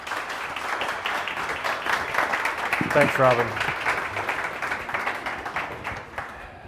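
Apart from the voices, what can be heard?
audience applause for keynote speaker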